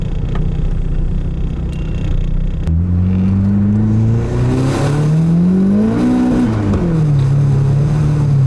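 Turbocharged K24-swapped Nissan Cefiro accelerating hard with the boost turned up, engine note rising steadily in pitch through a loud, close run, easing briefly and climbing again.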